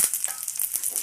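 Onions and curry leaves fry in hot oil for veg manchuria, giving a short burst of sharp, close crackling and spitting with no voice.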